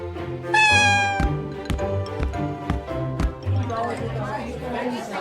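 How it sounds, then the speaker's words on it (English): A cartoon cat in a children's fairy-tale story meows in a drawn-out, rising cry, followed by soft knocks and rustling. "Bingi sees the sad cat and asks, Are you hungry?"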